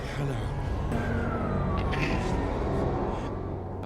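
An ambulance siren wails with a falling pitch sweep amid loud traffic rumble, with a voice talking over it.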